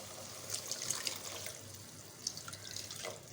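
Water pours into a pan of Gobi Manchurian gravy in a home kitchen, a soft continuous splashing pour with brief brighter trickles, fairly quiet and close, no talking.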